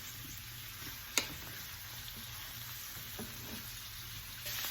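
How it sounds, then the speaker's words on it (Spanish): Carrot and onion frying in a pan, a steady soft sizzle with a sharp clack of the stirring utensil and a few lighter scrapes as the vegetables are moved around. "Ahora colocaremos la cebolla e igual manera vamos a estar allí removiéndolo un par de minutos."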